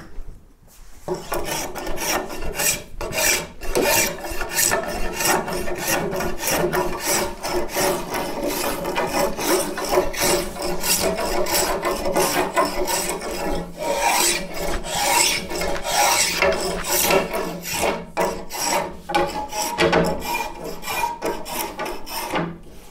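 A rasp files the edges of a yew longbow, loud close strokes scraping the wood in a steady back-and-forth rhythm that continues for the whole stretch without talk.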